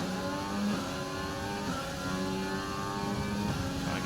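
An F1 car engine in the video game F1 2020, at Monaco, giving a steady high-pitched whine whose harmonics glide up and down with shifts and revving, loud and alone.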